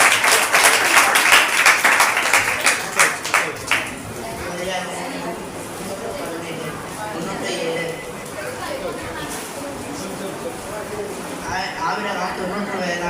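Audience applause at a children and youth church program: a burst of clapping for roughly the first four seconds that fades into crowd chatter and murmuring, with a brief swell of clapping again near the end.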